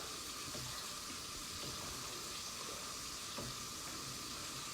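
Ham grease gravy sizzles steadily in a pan, a faint continuous hiss with soft scraping as it is stirred, no talking.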